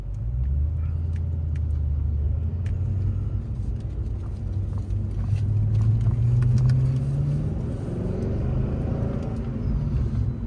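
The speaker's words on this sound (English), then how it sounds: "Now I'm just going to be driving the car normally and within the speed limit" A BF Falcon GT car engine rumbles and revs up as the vehicle pulls away, its pitch rising steadily, heard from inside at close range.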